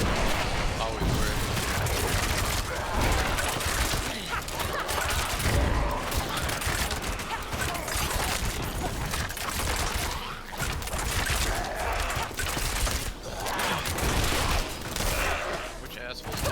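A treasure chest fires mortars in Diablo IV, amid dense, continuous battle noise of rapid blasts and booms that fills the whole stretch, with a voice talking over it.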